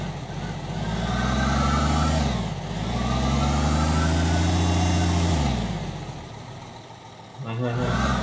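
Forklift engine in Construction Simulator, a loud, steady mid-pitched drone that rises and falls in pitch as the vehicle drives and accelerates, dipping briefly between runs.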